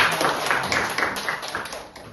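A classroom of students claps hands together during a practice teaching lesson, a quick irregular patter of many overlapping claps that fades slightly toward the end.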